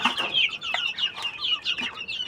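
A flock of 40-day-old native chicks clucks and peeps continuously close by while feeding on a bran and feed mix, a busy, overlapping chatter of chirps with no talking.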